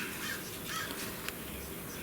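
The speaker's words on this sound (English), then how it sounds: "that's a crow out there." A crow caws outdoors, faint and distant, its calls partly buried under a steady background hiss.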